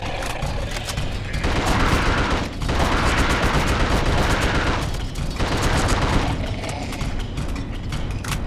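Rapid sustained gunfire from a drum-fed gun in the horror game The Suffering, loud continuous bursts with brief pauses between them.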